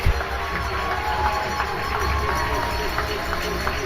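An indoor arena crowd at a men's international futsal qualifier, England against Switzerland, cheers and applauds steadily as the players walk out onto the court, with a commentator talking over the roar.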